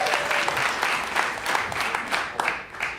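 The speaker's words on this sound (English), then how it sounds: "So if you enjoyed that little round of applause, it was my idea" An audience round of applause at a Boulder City Council candidate forum: a continuous, rippling spatter of many hands clapping, steady and moderately loud for the whole stretch.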